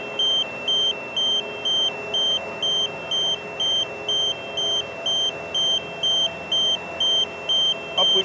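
Loud, steady electronic beeping from a tracked skid steer or boom lift being loaded, evenly spaced pulses repeating about twice per second over a constant mechanical hum.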